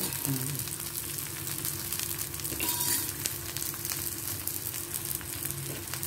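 Sliced onions frying in ghee or oil over medium flame, a steady soft sizzle with occasional clinks of a utensil stirring the pan.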